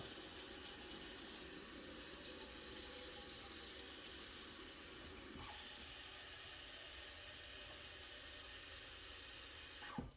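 Tap water running into a pot in a home kitchen, a steady rushing hiss that holds evenly for about ten seconds, fairly quiet and close, with no talking, ending with a small clunk.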